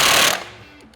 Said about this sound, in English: you're gonna use your T70 here and go ahead and get some stuff loosened up